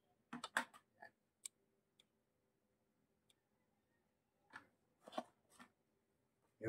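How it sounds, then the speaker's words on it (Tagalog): Scissors snip through dried squid (daing na pusit) in a few sharp, close cuts, a cluster near the start and another a few seconds later, with quiet gaps between. "may gunting tayo."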